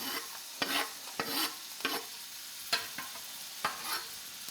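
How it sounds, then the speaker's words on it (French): Onion and shallot sizzle quietly in olive oil in a pan, with a gentle crackling bed of frying. Clear scraping stir strokes come at uneven intervals, about six of them, and no one speaks. "J'adore ce petit bruit de l'oignon, de l'échalote qui commence à grésiller dans l'huile d'olive."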